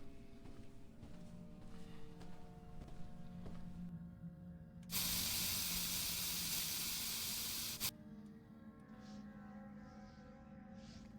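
Game sprayer cleaning leaked oil off a frame: a loud, steady burst of spray hiss about three seconds long, standing out over a low droning ambience with faint clatter.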